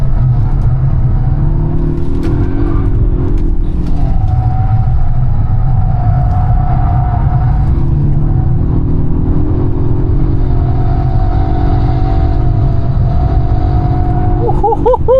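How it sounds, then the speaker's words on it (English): A Polestar 1 drives on a race track, heard from inside as a loud, constant road rumble with shifting motor whine that rises and falls as the car accelerates and brakes. "You join me POV style for a drive in my Polestar 1."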